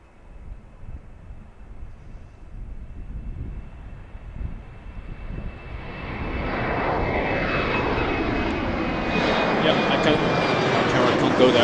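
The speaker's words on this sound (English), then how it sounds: "Next up, heading for Norwich, KLM, Embraer E175." A KLM Embraer E175 jet bound for Norwich takes off at Amsterdam Airport, its engine roar building from a distant whine to a loud, steady, close rush as it passes.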